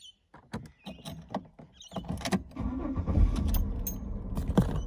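A Holden VY/VZ Commodore is keyed off and restarted: scattered clicks and key or switch noises come first, then the engine cranks and settles into a low, continuous running rumble close by.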